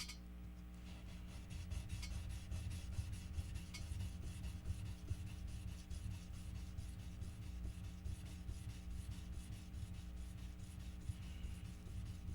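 Guitar frets being hand-sanded with 2000 grit sandpaper at a repair bench, a steady, continuous close rasping rub that runs without break under a low background hum.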